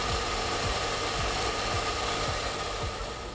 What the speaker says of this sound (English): The cutting edge is most easily brought up on the belt sander